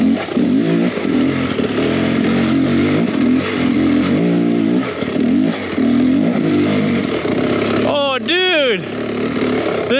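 Beta X Trainer 300 dirt bike engine running steadily and close throughout a ride, with a rising rev sweep near the end; mostly engine alone, little clear talk.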